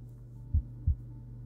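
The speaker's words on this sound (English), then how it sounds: "Wait, do you hear that? A heartbeat." Heartbeat in the game Cornucopia, two soft low thumps in quick succession, faint over a quiet steady hum, with no voices.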